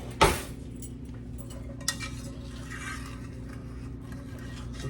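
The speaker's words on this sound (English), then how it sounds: "Now we got to get this stirred up." A spoon stirring pie filling gives a sharp clink at the start, another lighter tap a moment later, then soft scraping against a steady kitchen hum.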